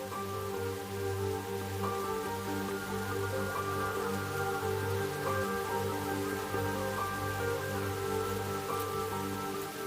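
Rain falls steadily in the wild where a lion pride shelters, a constant dense patter on the ground and foliage, even and unbroken throughout, with a low steady hum underneath.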